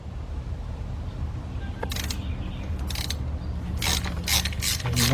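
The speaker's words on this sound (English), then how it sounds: "take you a 10mm swivel socket 3/8 drive, a 2-foot long 3/8 drive extension, and your 3/8 drive ratchet" Quick bursts of ratcheting clicks from a 3/8 drive ratchet on a long extension with a 10mm swivel socket, turning intake manifold bolts on a Ford Fiesta engine, coming in short strokes over a low background hum.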